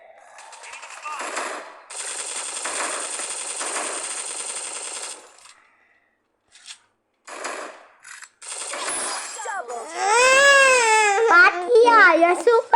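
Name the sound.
gunfire in the video game Free Fire Max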